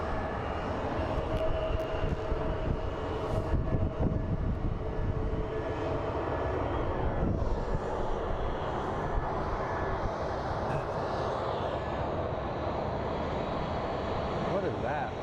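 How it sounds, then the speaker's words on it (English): Delta Connection regional jet operated by SkyWest idling while it waits to depart at Phoenix Sky Harbor airport, a steady loud engine roar and whine that carries on throughout, with wind buffeting the microphone. "As our little Delta Connect awaits its turn to depart."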